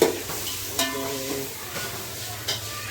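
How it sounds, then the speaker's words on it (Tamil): Onions sautéing for prawn biryani, a faint background sizzle with occasional soft stirring knocks and a brief tonal clink, fairly quiet overall. "வெங்காயம் வதக்கிட்டே இருக்கேன்"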